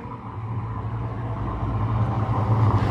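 A car passing close by on a street, a steady engine and tyre rumble that grows slightly louder toward the end, with no talk over it.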